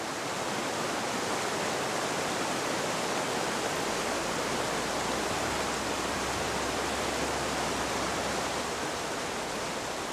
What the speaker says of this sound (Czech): Horská říčka se rychle mění v dravou řeku,